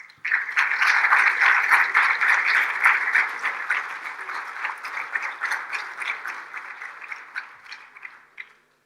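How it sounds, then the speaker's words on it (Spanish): An audience at a conference welcomes the speaker, architect José Miguel de Prada Poole, with loud, full applause that swells at once, holds steady and then tapers off over several seconds. "recibamos con un fuerte aplauso a José Miguel Prada de Pool"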